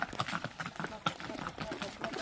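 Horse hooves clip-clop in a quick, uneven rhythm on a Sunday outing where many horses gather, close and fairly loud, with people talking over them.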